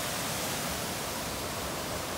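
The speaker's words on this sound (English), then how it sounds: "this right here is the top of the waterfall" Rushing water at the top of a waterfall, a steady broadband roar with no breaks, moderately loud and alone.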